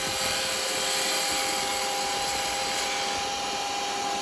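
Wood lathe making a cut on a wooden yoyo, a steady broadband whirring drone with a high tonal whine, continuous and close for the whole stretch.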